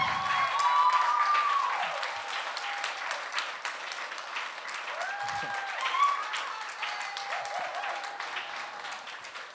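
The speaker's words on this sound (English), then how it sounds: "let's applause for that" Audience applause at a book club event, a dense sustained patter of clapping with scattered whoops and cheers rising over it, fading slightly toward the end.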